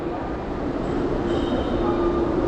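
Steady loud rumble of a New York City subway train running underground near Times Square, with a faint high whine of wheels and a constant droning hum.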